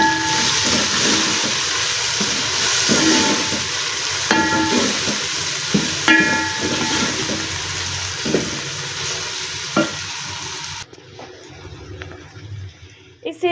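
Chopped tomato and garlic fry in a pan for dhaba-style daal chana, a steady loud sizzle throughout with occasional clinks, fading near the end.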